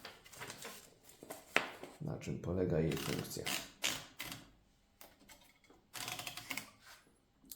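Paper being wound into an Erika 10 typewriter, with clicking ratchet sounds from the platen knob and lever alongside someone speaking Polish close by.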